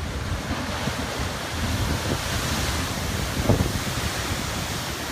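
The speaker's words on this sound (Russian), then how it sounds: "Приливная волна ударяется в скалу, и по подземному ходу вода идет в это ущелье, в отверстие, и вырывается фонтаном" Sea surf and tidal surge crashing against rocks at a coastal blowhole, a loud continuous roar of water with heavy wind noise buffeting the microphone and a brief burst of spray swelling near the middle.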